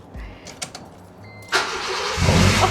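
A stock Honda Civic EK engine cranks and starts, then revs up loudly and holds a rising, rough roar close by.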